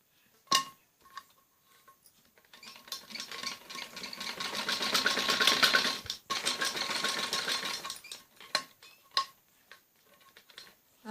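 A sewing machine stitching a fabric strip onto the back neck of a kameez runs in one steady rattling burst of several seconds, framed by brief clicks and handling before and after.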